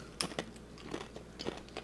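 Someone bites into a crisp Mexican snack, giving several sharp crunches with chewing in between, close and fairly quiet, with no talking.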